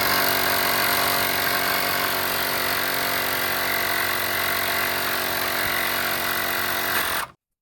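An EAFC 150 PSI cordless air compressor for car tires runs close and loud with a steady buzzing mechanical drone that holds constant for about seven seconds, then cuts off abruptly into silence.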